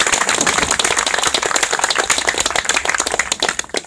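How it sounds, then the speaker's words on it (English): Loud, dense round of applause in a parliamentary chamber, many hands clapping steadily throughout and tapering slightly at the end, with no voices over it. "so he should have a massive round of applause"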